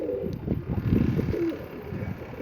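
Low cooing of pigeons under a dense, continuous murmur, with soft rhythmic calls repeating close by.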